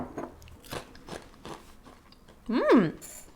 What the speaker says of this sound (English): The noodle is much more substantial, so there's a bigger crunch